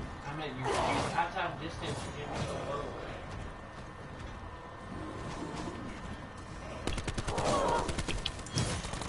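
Gunfire crackles in a video game, bursts of shots in short clusters under steady talk from people playing.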